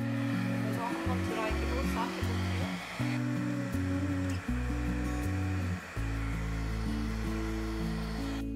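A hair dryer blows across poured resin in ocean-themed fluid art, giving a steady airy rush that runs the whole time beneath a layer of background music.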